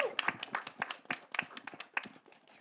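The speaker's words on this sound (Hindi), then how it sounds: "एक बार जोरदार तालियां" Applause at a film trailer launch event, sparse and uneven clapping from a small audience with distinct individual claps rising and thinning out, plus faint voices in the room.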